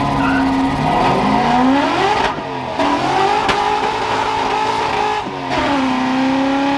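A Ford F100 truck with a freshly fixed fuel system revs hard and accelerates, its loud engine climbing in pitch, dipping briefly between shifts, then pulling again with strong, steady roar and no talking.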